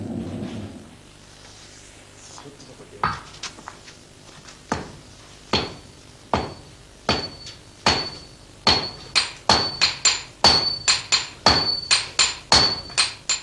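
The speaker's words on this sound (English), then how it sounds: "It is purified by hammer blows and by pouring a liquid made from ash over it." Hammer blows ring out as crude iron is forged and purified for a Japanese sword, starting slowly and then quickening into a dense run of sharp, close metallic strikes with bright ringing tones.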